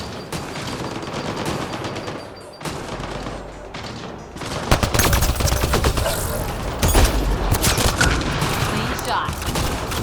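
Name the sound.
gunfire in the Mass Effect: Andromeda video game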